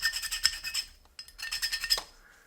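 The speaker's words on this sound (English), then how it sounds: "I think we can go ahead and just do a little once over with the file" Hand file rasping over a van's metal body panel during a flame-paint makeover, a run of quick close strokes with a brief pause midway before more strokes.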